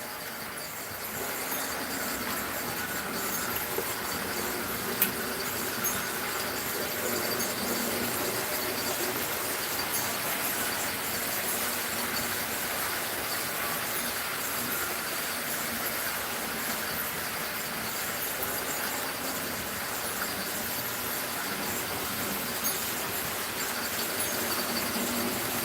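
Concord model train locomotive running along its track, a steady soft rolling rumble with faint rail clatter continuing evenly throughout at low volume.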